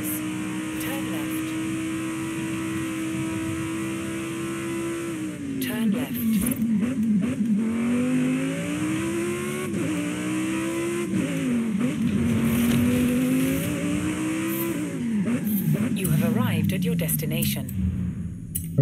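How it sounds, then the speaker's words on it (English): A Lamborghini supercar in Forza Horizon 5, its steady engine drone shifting into rising and falling revs as it accelerates and changes gear, loud and continuous with a voice talking over it. "I actually feel confident driving the Lamborghini"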